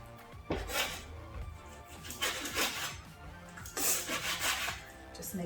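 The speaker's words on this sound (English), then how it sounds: "I'm just cutting the bacon up into strips." A knife cuts bacon into strips on a board, making a series of rough scraping and thudding strokes in uneven bursts, close by.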